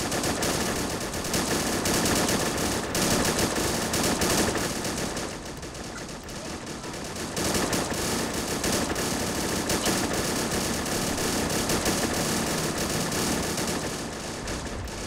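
Sustained .30 cal machine gun fire in the wartime strategy game Men of War, a dense, loud, relentless stream of rapid shots with brief dips in intensity before the barrage resumes.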